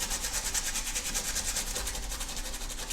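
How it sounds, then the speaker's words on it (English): A hard bristle brush scrubs soaked knife scales from a Benchmade Mini Bugout on a countertop, giving a quiet, rapid rhythmic rubbing rasp of repeated close strokes, with no talking. "Then take an old hard bristle brush of some sort and scrub them."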